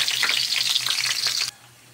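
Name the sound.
garlic and onion frying in oil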